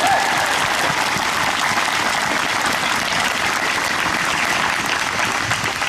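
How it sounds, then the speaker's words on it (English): Sustained applause from a rally crowd at a demonstration in Elmhurst, loud and steady throughout with dense clapping and a few faint cheers mixed in. "can we please hear it one more time for that great land acknowledgement by Eliza?"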